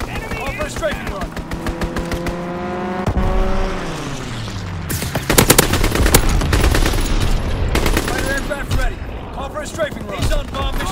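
Machine-gun fire from an aircraft strafing run in the World War II shooter Call of Duty: WWII, loud rapid bursts amid engine roar and battle noise, with radio-style voices announcing game events.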